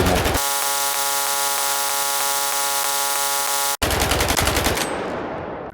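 Rapid, continuous automatic gunfire in S.T.A.L.K.E.R. 2, loud and close, a brief pause, then another sustained burst that trails off.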